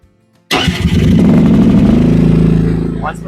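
A Rippa R10 mini excavator engine cranks and catches after a moment of near silence, then settles into a loud, steady, close-up idle with a deep throbbing rumble that holds for the rest of the clip.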